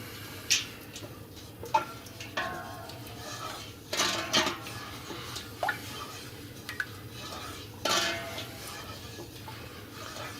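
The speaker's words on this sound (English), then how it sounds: "Now let's give it a stir." A spoon scrapes and clinks against a pot as syrup with dawet extract is stirred, giving soft, irregular knocks and ticks near at hand over a quiet background.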